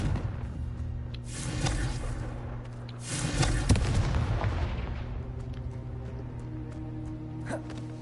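Explosive Confringo spell blasts in a video game, two heavy booming bursts about a second apart near the start and a louder crack with rumble around three to four seconds, then fading debris and faint pops over a low game soundtrack.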